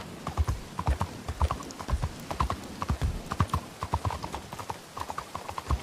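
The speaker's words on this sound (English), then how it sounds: "I think that's his horse." Horse hooves clip-clopping in a RedM roleplay video game, a steady, close walking rhythm of hoof strikes that continues throughout with no talking.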